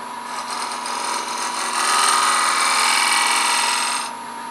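Lathe turning Burmese blackwood as a cove tool cuts a tiny cove, a steady hissing scrape that swells in the middle and fades near the end, close and continuous with no voices.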